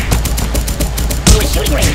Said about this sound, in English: Oh, a shooting range!